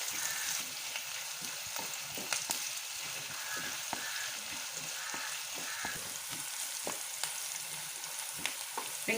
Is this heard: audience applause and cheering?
no